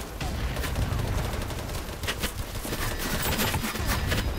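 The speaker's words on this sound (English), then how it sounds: "Oh, I got sniped." Dense, continuous gunfire fills a BattleBit match, with rapid overlapping shots and sharp cracks over a loud low rumble, sustained and busy throughout.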